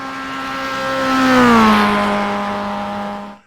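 Mazda MX5 race car engine in iRacing at Spa, a steady loud drone with harmonics that rises in pitch and swells in the middle, then dips slightly as it holds on an uphill straight before cutting off.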